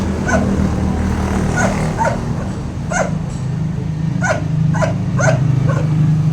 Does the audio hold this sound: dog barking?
yes